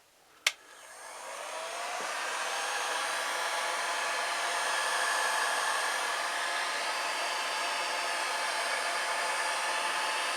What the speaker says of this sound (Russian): Дальше кладем на любую подходящую поверхность, берем термофен и начинаем греть.